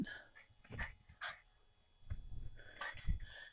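A dog whimpers and yips in short bursts outdoors, with breathy whines spaced across the moment and a faint voice now and then.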